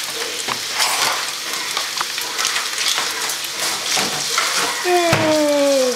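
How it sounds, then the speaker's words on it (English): Bacon sautéing for spaghetti carbonara sizzles steadily in hot oil in a pan, a dense continuous crackle with occasional stirring clinks, and a rising whine near the end. "So now she's going to saute the bacon."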